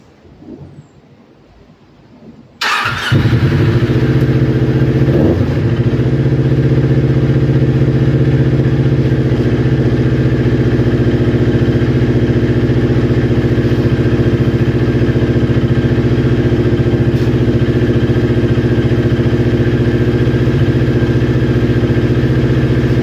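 A newly built motorcycle cold-starts after a quiet moment, catching at once and settling into a loud, steady, close idle that runs on without a break.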